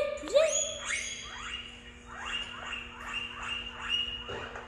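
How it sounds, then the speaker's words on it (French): A guinea pig calling out to its companion with a series of rising, squeaky whistle-like chirps repeated about every half second, fairly close and clear over a quiet background. "c'est le bruit du cochon d'Inde qui appelle son ami."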